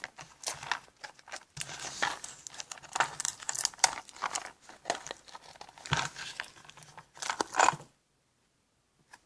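A taped-up gift package being opened by hand: steady crinkling, crumpling and tearing of paper and tape in close, busy bursts, then a sudden stop into silence near the end.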